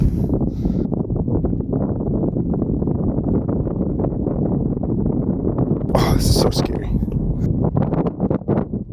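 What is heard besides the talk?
strong wind on summit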